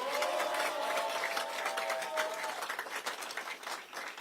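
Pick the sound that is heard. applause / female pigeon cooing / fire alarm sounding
applause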